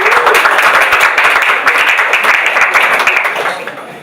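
An audience applauding at a literary reading in a café, dense, loud, continuous clapping from a sizable crowd close by that holds steady and then thins out toward the end.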